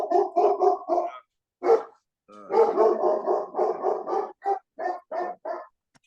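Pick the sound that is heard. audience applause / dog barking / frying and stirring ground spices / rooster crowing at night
dog barking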